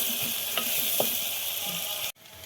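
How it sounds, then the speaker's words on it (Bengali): Onions frying in a pan over a high gas flame for a mutton masala, with a steady bright sizzle, a few clacks of stirring, then an abrupt cut to quieter hiss near the end. "এটাকে আমি হালকা ব্রাউন করে ভাজবো, কালার চেঞ্জ হওয়ার না অবধি আমি এটা ভাজতে থাকবো। হাই ফ্লেমে গ্যাসটা আছে আমার।"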